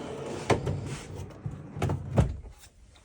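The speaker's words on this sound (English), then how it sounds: "all these are on drawers, so they slide out for easy access." Drawers in an RC airplane trailer slide out and shut, giving several close wooden knocks and sliding thumps spaced unevenly over a few seconds, with no speech.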